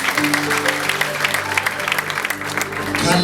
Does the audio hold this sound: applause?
yes